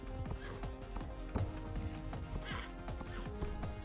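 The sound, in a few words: horse hooves and whinny in the Star Stable video game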